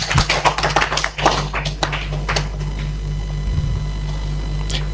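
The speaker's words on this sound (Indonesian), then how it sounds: "Tepuk tangan yang meriah buat Tuhan." Congregation in a church gives God a round of applause, dense claps building near the start then thinning into scattered taps over a steady low hum.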